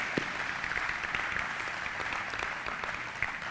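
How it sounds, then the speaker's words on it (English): An audience at a YMCA dedication ceremony applauding, a faint, even wash of many hands clapping that carries on for several seconds without a break. "How about a round of applause for Nana?"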